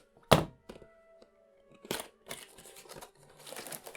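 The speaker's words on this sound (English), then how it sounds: "we're going to cut the top open here" Plastic toy packaging for 1/6 scale dinosaur nestling figures being cut open: a sharp snap up front, then scattered crinkles and cracks of stiff plastic, close and fairly quiet.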